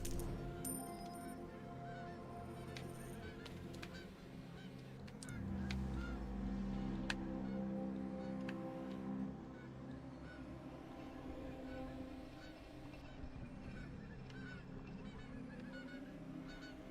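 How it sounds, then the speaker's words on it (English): Penguins in the racing video game Car Quest give honking, gull-like calls, fairly loud and repeated over a steady engine drone. "Why do the penguins sound like seagulls?"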